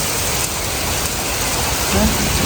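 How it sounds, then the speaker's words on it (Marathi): Heavy monsoon rain pours down, heard from a veranda as a dense, constant rushing hiss with no breaks, fairly close and loud. "आणि इथे पाऊस जबरदस्त पडतो."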